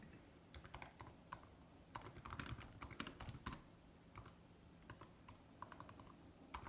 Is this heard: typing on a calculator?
yes